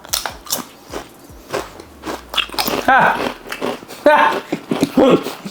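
Fried chicken flavored Lay's potato chips crunched between the teeth in loud, close bites and chewing, with talking mixed in between the crunches.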